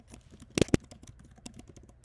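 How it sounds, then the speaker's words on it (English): Quiet computer keyboard typing while renaming a file, a scatter of soft key clicks with a couple of sharper, louder taps near the start. "You can just double click that and start typing."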